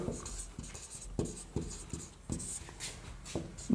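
A marker or chalk taps and scrapes in short, quiet, irregular strokes as math equations go up on a board.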